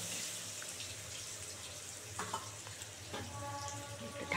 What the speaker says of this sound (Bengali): এবার সুন্দর করে কচু আলুটা একদম লাল করে ভাজবো।